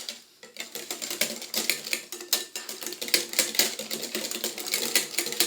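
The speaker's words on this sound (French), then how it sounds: "on va pouvoir mélanger rapidement avec le fouet" Wire whisk beating a red berry bavarois mousse mixture of raspberry, blueberry, blackcurrant and blackberry in a bowl, a fast, continuous run of close scraping and clicking strokes with no voices.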